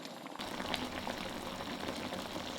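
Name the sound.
sauce simmering in a pan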